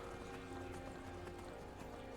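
A horse galloping in the Skyrim video game, a steady rhythmic clip-clop of hooves over constant game background sound.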